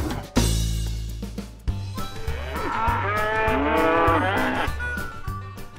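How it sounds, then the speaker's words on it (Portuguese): A cow on a farm gives several drawn-out, wavering moos at close range, with a few sharp knocks and shuffles around the calls and no talking. "Vaca."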